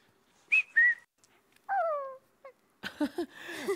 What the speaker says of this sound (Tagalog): pumito ka ng isang mataas at isang mababa